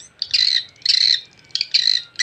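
Recorded edible-nest swiftlet calls played to lure swiftlets: four bursts of sharp, buzzy high twittering come in a quick regular rhythm, loud and close, with no voices.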